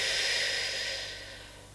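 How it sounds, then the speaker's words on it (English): A slow exhale during a standing Pilates exercise, heard as a soft, airy breath close by that fades gradually over about two seconds, with no talking. "And breathe out."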